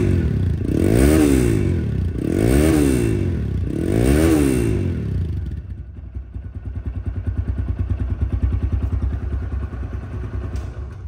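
A TVS Raider motorcycle engine revs three times in loud, rising and falling bursts. It then settles into a steady, close idle with a fast, even pulse.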